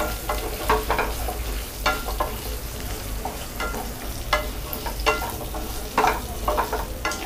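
Small onions sautéing in a pan for a country chicken curry, giving a steady low sizzle with intermittent stirring scrapes and clicks throughout, moderately close with no talking.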